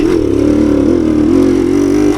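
A 52-year-old Suzuki TS185 trail motorcycle engine revving hard in second gear, a loud, close, steady buzzing drone that rises and falls slightly.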